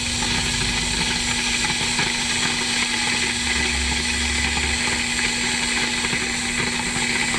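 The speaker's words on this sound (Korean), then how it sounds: "끓는 소리가 금방 납니다." An electric kettle heats water on 220V mains power drawn from a portable inverter at a fishing spot. It makes a steady, loud rumbling hiss over a constant electrical hum, with no voices.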